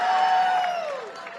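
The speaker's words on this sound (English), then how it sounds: "Wow, what a crowd." A large crowd cheers and whoops at a Workers for Trump political rally in Minnesota's Northland, a loud sustained roar with a whistle that slowly fades.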